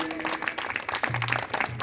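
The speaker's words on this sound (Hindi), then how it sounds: "जोरदार ताली बजाओ" An audience at a devotional Krishna katha gathering breaks into brisk, dense clapping that carries on throughout, with faint musical tones and some voices underneath.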